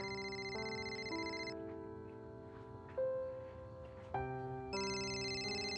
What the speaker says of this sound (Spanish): No, Diego, contéstale, debe estar bien preocupada